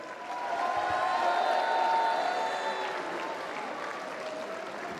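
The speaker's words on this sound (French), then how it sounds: "Merci d'applaudir Pierre-Hugues Herbert." A crowd applauds tennis player Pierre-Hugues Herbert at a Roland-Garros tribute ceremony, clapping that swells quickly, peaks loudly, then tapers to a softer continuing patter, with a few cheers or whistles rising over it.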